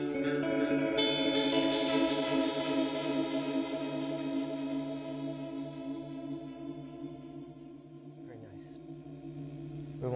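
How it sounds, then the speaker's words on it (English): A guitar through a long-time delay pedal rings out sustained notes as the echoes repeat and slowly shift in pitch, decaying into a swirling wash before a new strum. "for long delay times, you can actually hear the echoes shift in pitch."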